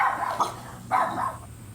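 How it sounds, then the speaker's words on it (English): Neighbor's dogs barking outdoors, a few short barks in two brief bursts, moderately distant. "the neighbor's dogs are out."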